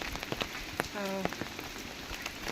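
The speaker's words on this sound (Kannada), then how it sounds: "ನೀರು ಮಳೆ ಜೋರು ಬಂದಿದೆ ನೀರೆಲ್ಲ ಸೌಂಡ್ ಕೇಳ್ತಾ ಇದೆ" Heavy rain pours steadily through a forest, a dense, continuous wash of drops striking leaves and surfaces, close and fairly loud, with a brief tonal sound partway through and no speech.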